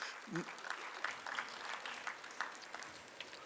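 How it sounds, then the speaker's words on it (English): Audience applause at the inauguration of an MSME business conclave in Bengaluru, heard as quiet, scattered clapping from a crowd, fairly faint and distant, with a few louder individual claps standing out. "Let us give a big round of applause to you, and you have to clap yourselves."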